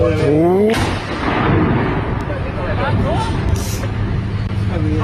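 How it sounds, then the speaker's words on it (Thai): Heavy artillery booms rumble amid continuous loud noise as guns fire ranging shots, with someone talking over it. "ทำการยิงเช็คแนว"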